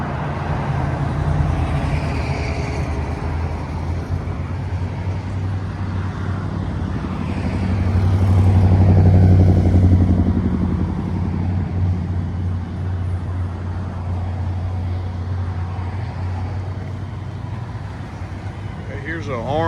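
A small custom truck with its exhaust routed out through the rear fender drives past at a rod run, giving a steady, low engine rumble that swells as it passes, amid outdoor crowd and traffic noise.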